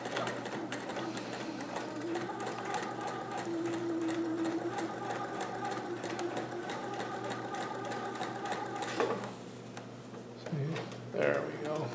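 A sewing machine stitches in the ditch on a Hawaiian aloha shirt: a steady, close mechanical whir runs for about nine seconds and then stops, leaving quiet room tone and a brief voice.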